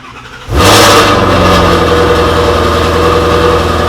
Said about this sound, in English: This car's pretty underwhelming. It's active exhaust, so it's kind of quiet.